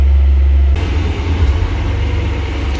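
A John Deere road grader's diesel engine runs steadily up close, a low rumbling idle that holds even throughout with no voices over it.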